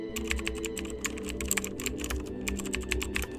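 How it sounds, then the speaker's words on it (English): Rapid, continuous keyboard typing with dense clicking keystrokes, close and clear, over a low steady hum. "Typing, fast and desperate."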